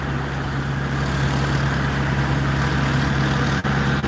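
Van engine idling with its exhaust routed through the floor, a steady low rumbling hum held close and loud throughout, with no talk.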